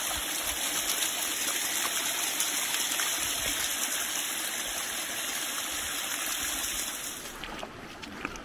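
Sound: wading through shallow water at low tide

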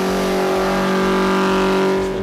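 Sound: Ford XW Falcon 347 Windsor engine revving

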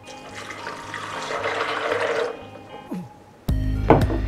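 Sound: water poured into a blender jar

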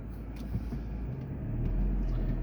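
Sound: car passing behind the speaker

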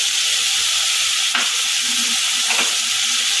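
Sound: spice paste frying in a pan for a jhinge dal curry

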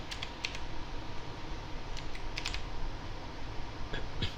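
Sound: typing on computer keyboard

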